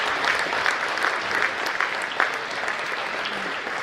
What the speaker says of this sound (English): So how about applause for yourselves for being here tonight?